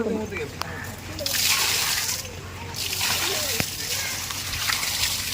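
Water pours and splashes in sustained gushes onto a stone nearby during a ground-breaking ceremony, with voices talking in the background.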